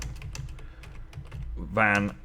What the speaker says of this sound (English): Wow, my slow typing.